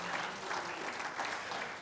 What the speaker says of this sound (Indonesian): Tepuk tangannya lagi bagi Tuhan Yesus.